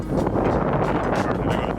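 Gusty wind buffets the microphone outdoors during a golf launch-monitor field test, a loud, continuous low rumble throughout.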